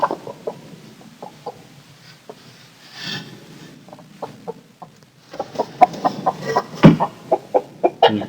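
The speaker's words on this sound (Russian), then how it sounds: "И курицы живут." Hens clucking inside a wooden coop in winter, a string of short, close clucks and calls that are sparse at first, then grow louder and more frequent with one sharper squawk.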